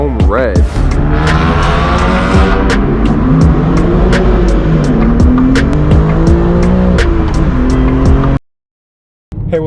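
A BMW M4 G82 with a manual gearbox driven hard on twisty, tight roads, its engine revving up and down through the gears with shifts and brief tire squeal, loud and close, before the sound cuts off near the end.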